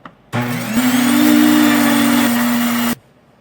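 A Nutrimill grain grinder on the coarse setting grinds grain with a loud, steady whirring roar that starts abruptly, holds for about two and a half seconds, then stops, heard up close and alone.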